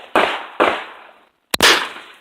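Gunfire at an outdoor gun range: three sharp, loud shots, the first two about half a second apart and the third after a short pause, each ending in a brief echoing decay, with no talking.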